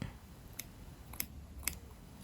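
Three quiet, crisp snips of scissors cutting fabric while sewing a skirt, spaced about half a second apart, close by in a quiet room.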